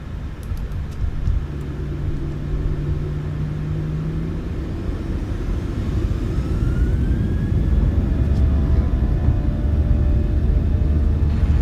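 Small airplane engine at full power during a takeoff roll on freshly replaced tires, a steady loud rumbling drone that builds slightly over the run, with no voices.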